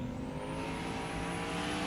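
Drag racing cars launch down the strip at Mo-Kan Dragway with a steady, faint, distant engine roar and rising tonal whine.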